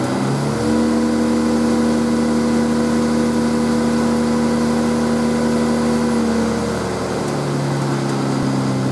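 A wood lathe motor spins up from 3000 rpm toward its 4650 rpm maximum and holds a steady high whine for several seconds, then winds down toward the end.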